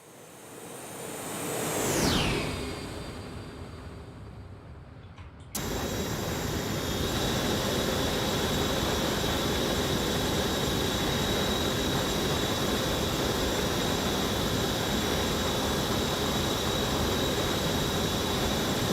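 An Embraer E145 jet in the X-Plane 11 flight simulator passes by, a rising then falling whine with a sweeping pitch drop, followed by a sudden switch to a steady loud engine roar with a high tonal whine that lasts to the end.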